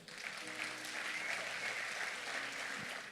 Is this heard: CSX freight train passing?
no